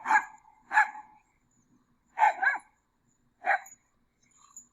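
A small Chihuahua Min Pin mix dog barks four times in short, sharp bursts, close by, with brief pauses between them and a faint yip at the end.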